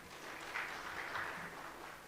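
Faint audience applause welcoming a speaker onto the stage at a startup summit and awards event, a soft steady patter of clapping from a distant crowd that carries on for about two seconds.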